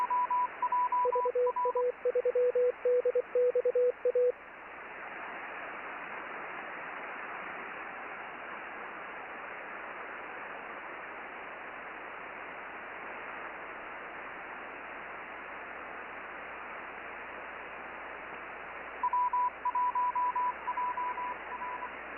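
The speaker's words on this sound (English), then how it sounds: "Some dudes working CW." Fast Morse code (CW) from an amateur radio, sent as rapid bursts of tones over steady receiver hiss, with a long hiss-only stretch before the keying returns near the end.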